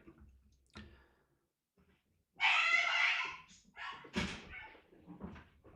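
A French bulldog whines and whimpers in short, breathy bursts while waiting to be let out, a loud squeaky cry followed by smaller whimpers, fairly close in an otherwise quiet room.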